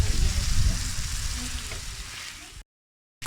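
Potatoes and eggs frying in a pan for a Lahori breakfast give a loud, steady sizzle that slowly eases, then cuts to a brief silence before resuming.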